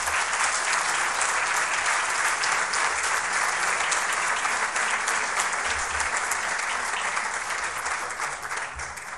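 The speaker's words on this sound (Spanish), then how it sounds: "Un aplauso para todos ellos." A large audience applauds steadily at a university academic year inauguration ceremony, a dense, even wash of clapping that holds for the whole stretch and tapers only slightly at the end.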